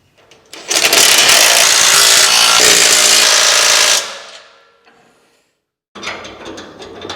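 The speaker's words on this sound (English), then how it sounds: "Now I can go ahead and put all the nuts on the cross member, tighten everything up," A power tool runs nuts onto a cross member while a fuel tank is bolted up on a GMC motorhome: a loud, continuous mechanical whirr and rattle for about three seconds, winding down, then a shorter burst of rattling.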